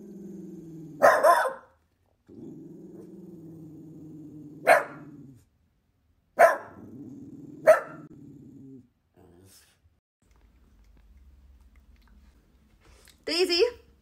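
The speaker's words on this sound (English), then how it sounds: "You're gonna growl at me." A pet dog growls close by in long, low rumbling stretches, broken by a few sharp barks and a yip, with quiet pauses between.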